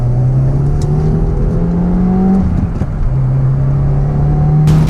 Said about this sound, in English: add that exhaust, man, it sounds good